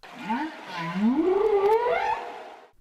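A humpback whale's long rising and falling moan, heard underwater as it answers a greeting played through an underwater speaker, sustained and fairly loud for nearly three seconds with no talk.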